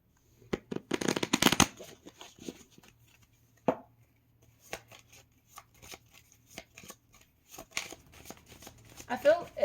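Tarot cards being shuffled in quick riffling bursts, loudest near the start, with scattered flicks and slaps of cards as someone talks intermittently.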